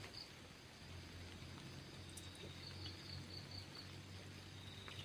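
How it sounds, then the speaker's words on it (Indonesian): Steady rain falling at a campsite at the start of the rainy season, a continuous broadband hiss of drops on surfaces with a low hum beneath and faint insect-like chirps, no talking. "kayaknya mulai turun hujan nih"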